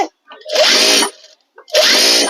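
A sewing machine stitching a collar neck runs in two loud, steady bursts separated by a short pause, close and without talk.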